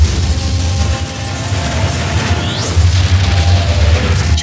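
A starship's warp core breach erupts in a heavy, booming explosion with a sustained low roar and crashing debris, loud and dramatic throughout.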